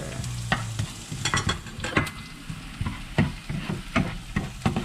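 Onion and ginger sauté in a pan, a soft sizzle broken by frequent sharp clacks and scrapes as a utensil stirs them, close by and fairly loud, with no voices.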